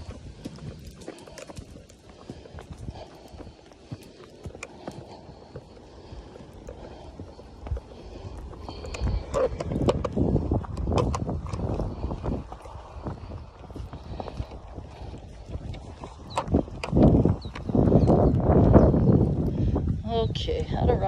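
An Arabian horse under a rider clip-clops along, hoofbeats growing louder and more frequent as the pace picks up, with a rider talking over them throughout.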